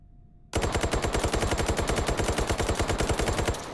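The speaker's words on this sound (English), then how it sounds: "Now let's try full auto." Full-auto gunfire in the VR shooter Hot Dogs, Horseshoes & Hand Grenades starts after a brief hush, then rattles in one loud, rapid, evenly spaced burst lasting about three seconds.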